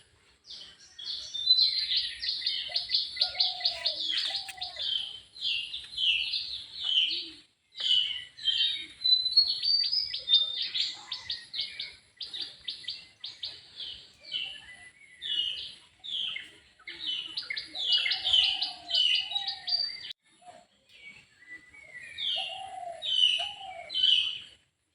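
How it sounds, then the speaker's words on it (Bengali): Birds chirp and twitter almost continuously around a village house early in the morning, a dense chorus of high tweets with occasional lower calls, close and fairly loud with no talk. "ভিডিও করতে গেলে চারদিক থেকে পাখির আওয়াজ, মুরগির আওয়াজ এগুলো আসতেই থাকে"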